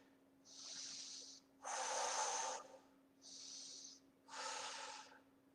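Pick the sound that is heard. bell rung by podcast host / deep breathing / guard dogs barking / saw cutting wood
deep breathing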